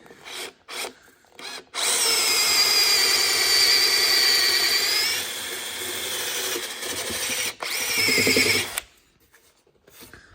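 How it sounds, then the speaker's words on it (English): A power drill with a 5mm bit whines at high speed through an oak mortise and tenon post in two long bursts, with short clicks and pauses between, close and loud. "I'm not too bothered about drilling all the way through from one side on these"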